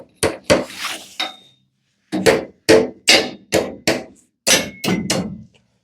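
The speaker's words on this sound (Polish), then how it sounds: "Także bijam to sobie gwoździe od dołu." Hammer blows drive nails into wooden floor slab formwork on a building site, about a dozen sharp, loud, ringing strikes in uneven bursts with short pauses between them, close by and with no talking.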